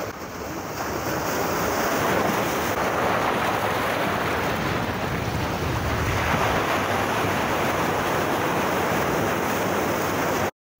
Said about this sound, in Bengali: নিউ দীঘা বা ওল্ড দীঘার তুলনায় সমুদ্র এখানে কতটা উত্তাল একবার লক্ষ্য করে দেখো